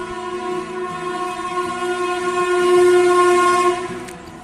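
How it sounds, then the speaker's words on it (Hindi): A train passing through Etawah railway station sounds a long, loud horn, tonal and sustained over the rumble of the cars, swelling in the middle before easing off. "तो आप देख सकते हैं ट्रेन की नॉर्मली आवाज़"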